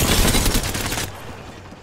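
Rapid automatic gunfire in a shooter video game, a dense stream of close, loud shots for about a second that then fades into quieter scattered noise.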